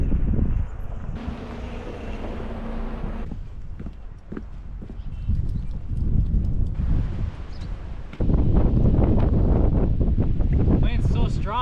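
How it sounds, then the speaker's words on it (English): Strong wind buffets the microphone at an outdoor fishing spot beside bushes, a steady broadband rumble and roar that swells louder in gusts throughout, with a person speaking under it at times. "Wind's so strong, he's pulling my string off this way by these bushes."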